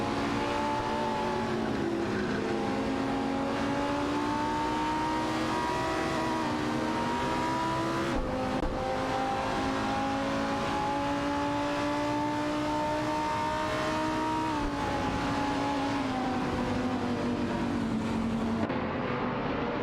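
Racing game cars, an Aston Martin DBR9 and Ferrari F360 GTC among them, hold a steady engine drone with sustained harmonic tones that shift pitch gradually, loud and continuous throughout without talk.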